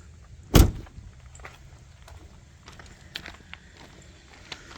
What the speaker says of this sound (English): Just pull forward to pop the hood.